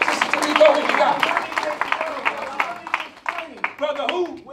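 Audience members clap for a small donation at a community gathering, a loose burst of applause that thins into scattered individual claps, with people talking and calling out over it.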